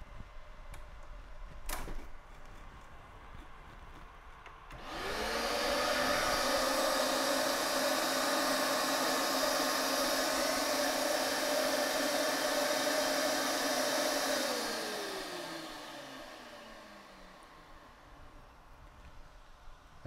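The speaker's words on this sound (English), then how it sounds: "the form box automatically turned on our vacuum cleaner. We're using a small shop-vac here for this" A small shop-vac vacuum cleaner switched on automatically by a Mayku FormBox vacuum former starts abruptly after a click, roars with a steady loud whine for about ten seconds, then spins down and fades.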